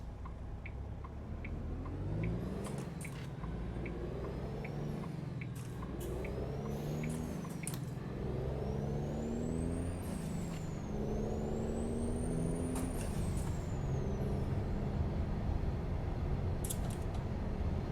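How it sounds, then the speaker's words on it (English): An older heavy truck engine in a truck simulator game rumbles steadily with a loud, rattling Jake engine-brake drone, rising and falling in pitch as a turbo whistle spools up and down. "it's kind of cool though that the turbo spools up with the Jake."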